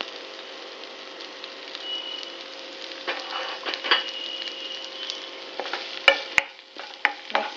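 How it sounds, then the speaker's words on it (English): Onion fries in a pan for tomato chutney, a steady crackling sizzle broken by scraping stirs and a few sharp clinks of a spoon toward the end, close by with no talking. "Mix well and fry it till the onion turns a little golden brown."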